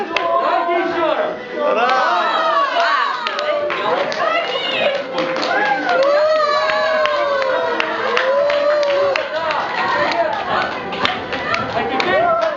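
Crowd of children shouting and cheering at a festive holiday gathering in Nizhyn, loud and sustained throughout, mixed with claps and bursts of voices close by.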